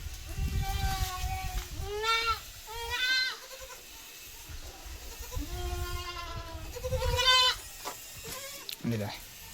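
Several goats bleat loudly and repeatedly, with wavering, nasal cries close by, and people talking in the background between calls.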